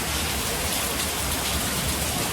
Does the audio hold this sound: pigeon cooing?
no